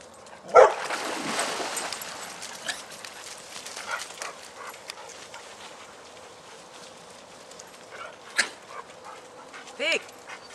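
Dogs bark and whimper outdoors, a loud close yelp early on followed by scattered fainter barks and whines, with people talking throughout.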